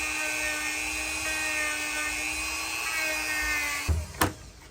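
Power buffer grinding against a small piece of copper tubing, a steady high whine with a faint tonal hum that holds evenly, then breaks off into a couple of sharp knocks and a bright scrape at the end.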